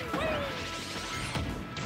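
ROB's grenade going off in Smash Ultimate, a short crashing explosion burst over busy game sound, followed by more quick impact hits within two seconds.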